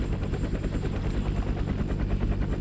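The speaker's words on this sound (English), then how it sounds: "Here comes the helicopter." A helicopter in the Roblox game Rolling Thunder drones loud and steady with a rapid rotor chop and a thin high whine, with no voices.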